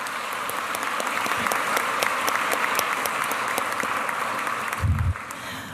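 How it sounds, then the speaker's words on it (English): Warm, sustained applause for fifth-grade poets at a Seattle Colleges Martin Luther King Jr. celebration, with individual sharp claps standing out from the crowd before a brief low thump near the end. "Another big round of applause for them."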